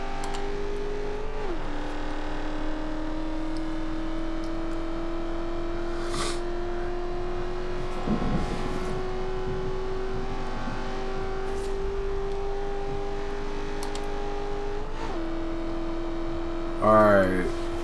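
A 2000 Ford Mustang SVT Cobra R engine in the racing game Forza Horizon 2 holds a sustained drone at steady revs, with a few quick gear-shift drops and a brief burst of noise near the end.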